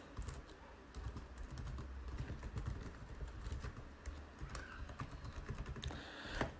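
Steady, quick tapping of keys on a computer keyboard while an email address is typed, soft and close with an even patter and no voices.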